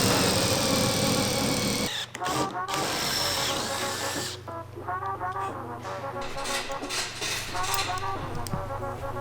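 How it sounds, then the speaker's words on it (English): A power drill bores holes through the trunk lid of a Subaru while a factory STI wing is fitted. It whines steadily at first, then gives a series of short, stop-start bursts close by. "Now that we've drilled our holes through the trunk"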